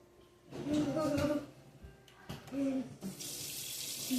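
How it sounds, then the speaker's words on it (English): Tap water runs into a kitchen sink while eggs are rinsed under it, a steady splashing stream with bursts that thicken as hands move through the flow, close and fairly loud, with faint voices in the background. "Alright, let's get these rinsed. Wash and rinse."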